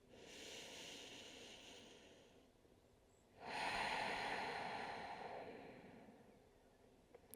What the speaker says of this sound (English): taking a couple more slow, grounding breaths here